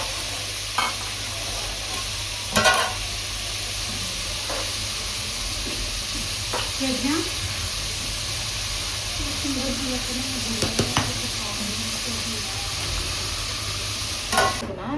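Onions fry in a pan at home, giving a steady broad sizzle with a few sharp scrapes and clinks of the stirring spoon now and then, while faint voices murmur in the background.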